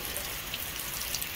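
Steady rain falls outdoors at a park in Odisha, a dense, even hiss of drops on surfaces with no voices.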